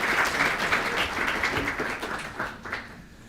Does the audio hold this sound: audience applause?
yes